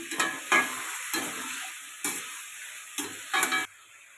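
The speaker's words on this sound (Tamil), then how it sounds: "கறியை நல்லா மிக்ஸ் பண்ணிக்கிட்டே இருக்கலாம்." Chicken thokku curry being stirred in a frying pan, sizzling steadily with five or six distinct scraping stir strokes at an uneven rhythm, close and moderately loud, no voices.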